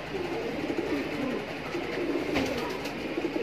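Shahjanpuri pigeons offered for sale coo in low, throaty, overlapping calls, forming a continuous close chorus without talk.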